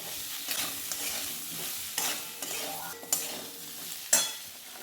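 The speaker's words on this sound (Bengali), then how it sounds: "লঙ্কা গুঁড়ো দিয়ে দিচ্ছি, হলুদ গুঁড়ো আর পরিমাণ মতো লবণ দিয়ে দিচ্ছি। এবার সব কিছু ভালো করে কষিয়ে নেব।" Chili powder, turmeric and salt sauté in a hot pan, giving a steady close sizzle broken by several sharp scrapes and knocks of a spoon stirring the masala.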